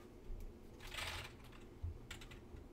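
Keys clatter on a computer keyboard during a coding session, a quick burst of close, soft typing followed by a few scattered keystrokes.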